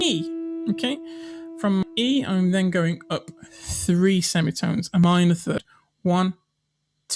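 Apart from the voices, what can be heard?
No distinct noise like a dog, phone or traffic.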